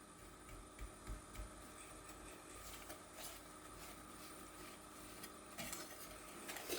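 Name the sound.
whisking syrup with ground cinnamon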